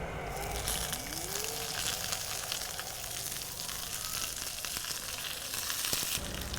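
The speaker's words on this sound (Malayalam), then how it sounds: "കറിവേപ്പില കൂടെ ഇട്ട് മൂപ്പിക്കും" Curry leaves crackle and sizzle in hot oil with a steady, close frying hiss and a brief stir, no voices over it.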